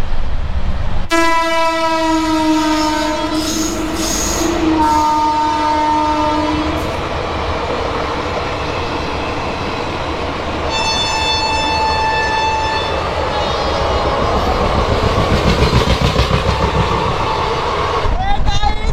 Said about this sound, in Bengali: আর এটাই হচ্ছে আমাদের রাধিকাপুর এক্সপ্রেস।